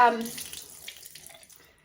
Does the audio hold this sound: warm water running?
yes